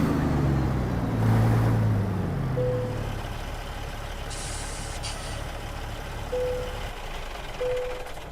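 A Peterbilt 389 truck hauling cows in American Truck Simulator rumbles low, then lets out a sharp hiss of air brakes, with a few faint electronic beeps afterward and no talking.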